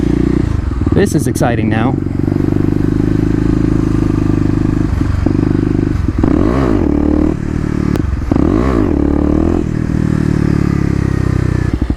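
A Kawasaki KLX250 motorcycle rides in second gear, its engine droning steadily and close with a few revs rising and falling, while a rider talks over it briefly near the start.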